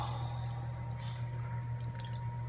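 Liquid is poured into a spinach artichoke stuffing in a home kitchen, a steady soft pour with faint drips over a constant low hum.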